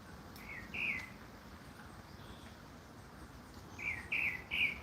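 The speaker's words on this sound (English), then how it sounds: "Listen to the birds them singing." Birds sing outdoors in a few short, bright chirping bursts, one early and a cluster near the end, over steady low background noise with no talk.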